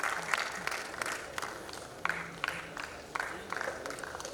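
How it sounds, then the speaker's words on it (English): Seminar audience applause for paper presenters, a fairly soft, uneven crowd clapping with distinct individual claps standing out in irregular bursts. "Let us give them a big round of applause"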